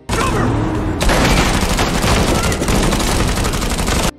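An armed gang's attack inside a hangar in a film shootout brings dense, continuous gunfire, a loud fusillade of rapid shots and bursts that runs nearly the whole time.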